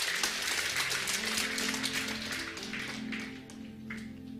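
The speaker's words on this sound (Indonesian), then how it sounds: "Kita beri tepuk tangan lebih sungguh-sungguh." A church congregation claps during a sermon, a dense wash of hand claps that fades slightly toward the end, with faint tones of music underneath.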